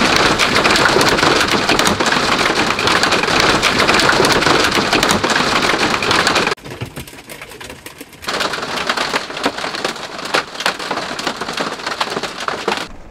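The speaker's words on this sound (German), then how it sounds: "es hagelt hier gerade übelst" Heavy hail pelts down around a campervan on a US road trip, a dense, loud drumming of impacts that cuts out briefly midway, then resumes just as hard.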